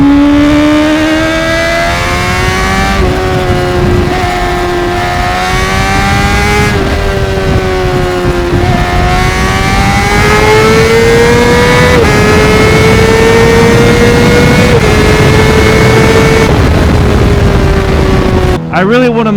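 A Honda CBR600RR sport bike on new tires howls along a twisty road. The loud, close engine note climbs and drops repeatedly through gear changes and throttle rolls, with wind rush underneath.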